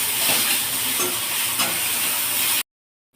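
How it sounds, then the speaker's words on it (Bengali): Chana dal and potatoes are stirred in a hot wok, giving a steady close sizzle with scraping stir strokes for about two and a half seconds before cutting off to silence. "ছোলার ডাল আলু যেটা কড়াইতে নাড়াচাড়া করছিলাম"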